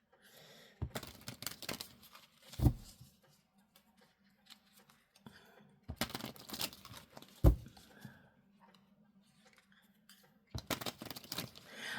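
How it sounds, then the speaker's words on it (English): A deck of tarot cards being shuffled by hand, giving three separate bursts of riffling and snapping card noise with quiet pauses between them, close and fairly soft, with no talking. "Need to shuffle them."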